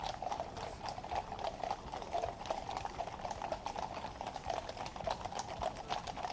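Steady, rhythmic clip-clop of horse hooves on a hard surface, fairly close, with a faint outdoor murmur behind.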